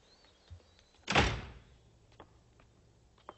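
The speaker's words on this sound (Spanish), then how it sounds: "Pero cierra la puerta" A door swings shut with a single solid thud partway through, the impact ringing briefly before fading, followed by a few faint knocks and rustles in an otherwise quiet room.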